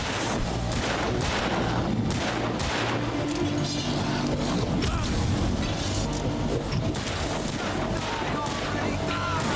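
Gunshots in Alan Wake crack repeatedly in a dense, steady volley of loud bangs, while people talk over the shooting.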